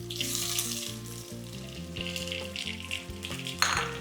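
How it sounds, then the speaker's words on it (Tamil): Dried red chillies and curry leaves, with fenugreek seeds, sauté in hot oil in a pan, giving a close, steady frying sizzle with bursts of brighter crackle and a few small pops, no talking. "வரமிளகா, கருவேப்பிலை இதெல்லாம் போட்டு கொஞ்சம் வதக்குங்க."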